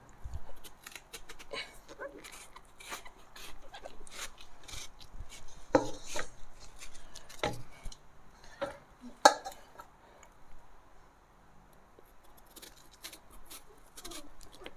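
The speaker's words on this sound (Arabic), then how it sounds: "نقطع بقى البطيخة كده سوا" A knife chops through a watermelon in a run of sharp, close cuts and thuds, unevenly spaced over a quiet background, with no talking.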